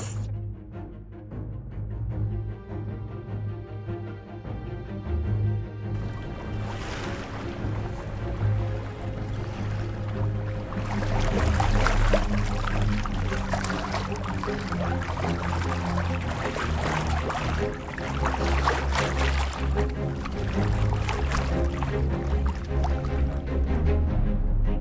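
Sailboat moving slowly over flat water in very light breeze, a soft continuous wash and trickle of water along the hull with a low rumble underneath, growing a little fuller midway and staying steady.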